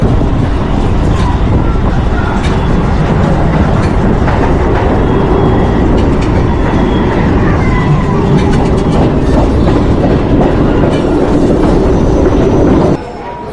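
Local passenger train bound for Asansol pulling into Raniganj railway station, a loud, steady rumble of wheels and carriages with rhythmic clicking over rail joints, continuing throughout before dropping off abruptly near the end.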